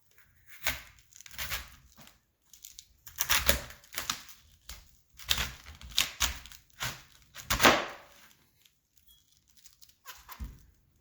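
Knife slicing through a peeled head of cabbage, crisp crunching cuts and rustling leaves in irregular bursts with quiet gaps, close and fairly soft, ending with a board thunk.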